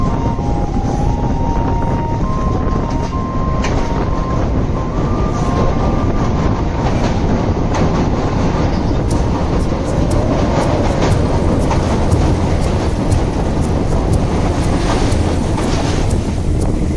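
A passenger train runs along the seacoast on the Galle to Colombo line in Sri Lanka, with steady loud rumbling and rattling of the carriages mixed with wind buffeting the microphone throughout, no talking.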